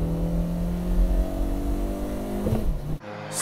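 A Suzuki Swift sports compact racing on a circuit through a high-speed corner, its engine droning steadily at high revs, then cutting off abruptly near the end.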